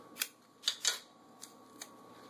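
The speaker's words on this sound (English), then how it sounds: "Then I'm going to tape it." Tape is pulled and pressed onto a homemade oxygen absorber packet, giving a handful of short, crisp rips and crackles, quiet and close, with gaps between them.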